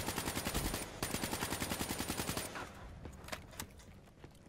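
Rapid automatic gunfire from a Call of Duty match, loud bursts of evenly spaced shots for about two and a half seconds, then fading into scattered distant shots and game noise.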